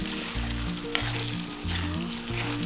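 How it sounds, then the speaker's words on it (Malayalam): Kadai chicken masala being stirred in a pan, with a steady loud sizzle of frying and rhythmic scraping strokes of the spoon repeating through the mixing, no voices present. "ഇനി ഇത് എല്ലാം കൂടെ നന്നായിട്ടൊന്ന് യോജിപ്പിക്കാം കേട്ടോ."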